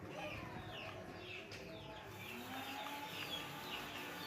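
Native chickens and a rooster being fed in the rain give repeated short clucks and calls over a steady hiss of rainfall, at moderate distance.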